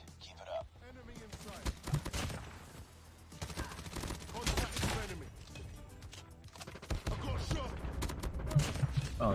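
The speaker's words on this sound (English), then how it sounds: "Sentry gun's going crazy." An automated sentry gun fires in rapid, rattling bursts in the mobile shooter COD Mobile, with stretches of dense gunfire broken by brief lulls and a voice talking over the action.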